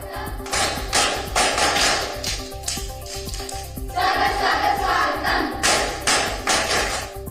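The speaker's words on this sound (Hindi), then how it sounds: "प्रधानमंत्री नरेंद्र मोदी जब अटल आवासीय स्कूल पहुंचे तो यहां पढ़ने वाले बच्चों ने पीएम मोदी का तालियों के साथ स्वागत किया" Schoolchildren at a residential school applaud to greet a visiting prime minister, a dense, steady patter of many hands clapping in sustained waves with a faint crowd murmur underneath.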